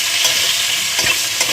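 Chopped onion frying in a pan with a dry red chilli, cardamom, cloves and cinnamon, a steady loud sizzle with a few soft stirring scrapes, close and continuous without voices.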